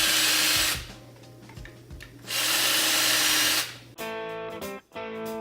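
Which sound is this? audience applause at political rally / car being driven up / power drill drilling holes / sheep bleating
power drill drilling holes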